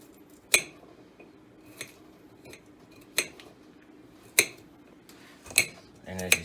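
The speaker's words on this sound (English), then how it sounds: "Freshly opened up garlic. We can open it up just a little bit more." A basic steak-style kitchen knife working at fresh garlic cloves; sharp, isolated clicks and taps on a hard surface, spaced about a second apart over a quiet background, ending in a brief cluster of scraping.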